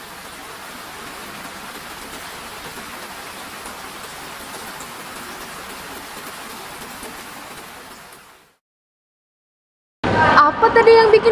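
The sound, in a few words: rain falling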